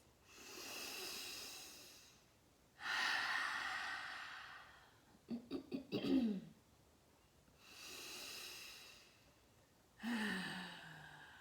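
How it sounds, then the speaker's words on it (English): Slow, deep cleansing breaths during a guided mudra practice, heard as three long airy exhales spaced a few seconds apart, with a cluster of short sharp sniffs and a rough voiced breath between them, close and quiet with no talk. "take a few cleansing breaths, please"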